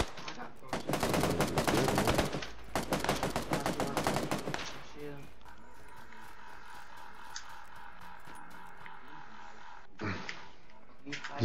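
Rapid automatic gunfire bursts from the video game PUBG on PS4, loud and dense for several seconds, then a quieter stretch with a humming tone and one more short burst near the end.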